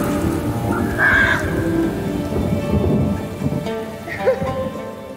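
A dramatic scene features heavy rain pattering steadily alongside rumbling thunder. The storm is loud and continuous, and faint voices come through beneath it.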